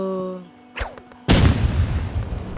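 A short tone and whooshing sweep lead into a sudden loud Roblox game explosion, followed by a rumbling, crackling tail.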